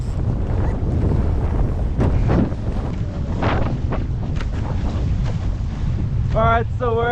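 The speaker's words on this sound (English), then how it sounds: "Not doing too badly, wind came up." Strong wind buffeting the microphone aboard a Hobie Cat 16 sailing on open water in Western Port, with constant roaring gusts and water rushing, and a brief voice near the end.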